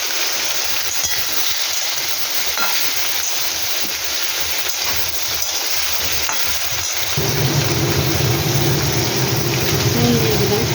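Pieces of already-fried fish go into a hot pan of cauliflower curry and fry with a steady, loud sizzle that grows fuller and louder partway through, with no voices over it.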